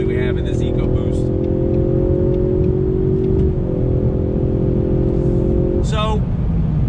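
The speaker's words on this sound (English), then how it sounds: "as we get on the highway here, on throttle, see what kind of passing capability we have in this EcoBoost" A Ford Mustang EcoBoost with a 10-speed automatic accelerates onto a highway, its engine droning steadily under throttle, with a couple of rising shifts and continuous road and wind noise throughout.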